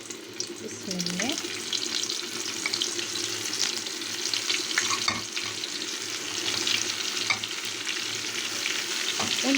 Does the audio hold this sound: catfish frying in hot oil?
yes